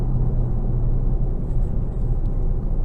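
A deep, steady V8 exhaust rumble from a 2022 Dodge Challenger R/T Scat Pack 392 with stock exhaust, loud and close, continuous throughout without any talking.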